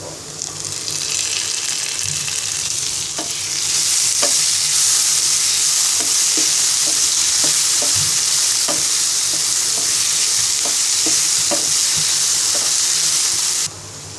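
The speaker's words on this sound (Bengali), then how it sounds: "পেঁয়াজটাকে ব্রাউন কালার করে ভেজে নিব এবার পাঁচটি কাঁচামরিচ ফালি দিয়ে দিব একটি টমেটো কুচি দিয়ে দিব" Onions, slit green chillies and chopped tomato fry in a pan for a Bangladeshi bata fish dopeaji, a loud continuous sizzle that swells after a few seconds, punctuated by repeated spatula taps and scrapes, close up with no talk.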